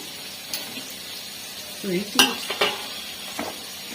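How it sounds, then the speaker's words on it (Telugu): Potato pieces drop into sizzling masala in a pan for potato kurma curry, making a soft frying hiss with a few clattering thuds and scrapes of stirring near the middle, fairly quiet and close, with no talking. "ఇప్పుడు మనం ఇదిగోండి బంగాళదుంప ముక్కలు వేసేస్తున్నాను"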